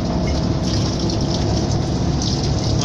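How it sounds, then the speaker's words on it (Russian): A stream of water rushes steadily past the side of a boat pushing about 40 tons through a reservoir at speed, a loud, unbroken broadband roar with no voices. "Вон там струя воды за бортом."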